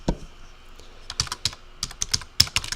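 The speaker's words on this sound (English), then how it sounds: "here you want to just start typing in all of your keywords" Fingers type on a computer keyboard, an irregular run of quick close key clicks that starts sparse and builds into bursts of rapid taps, with no voices over them.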